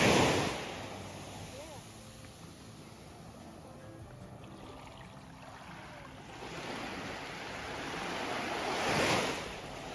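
Ocean waves wash onto Phra Ae Long Beach on Koh Lanta, Thailand, in a continuous surf roar with some wind noise. The wash swells louder toward the end as a larger wave breaks close by.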